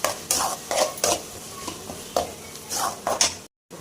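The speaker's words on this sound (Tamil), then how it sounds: "வெங்காயத்தை போட்டு நல்லா வதக்கிடலாம்." Onions sauté in a hot pan for mutton gravy, a steady sizzle broken by repeated scraping stirs of a utensil against the pan, close and fairly loud, ending in a brief silence.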